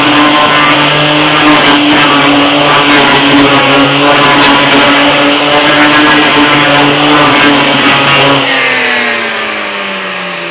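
A Metabo LF 724 S paint remover stripping layers of blue overspray from a board, set to a fine 0.05 mm cut, runs as a loud, steady, high-pitched motor whine under load, then eases and winds down near the end.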